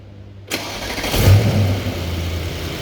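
A Mercedes E63s engine cranks and fires after silence, a sudden loud catch that swells into a brief rev flare, then settles into a steady rumbling idle close by.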